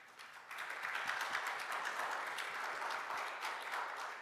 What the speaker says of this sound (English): If everyone please join me to give them a round of applause.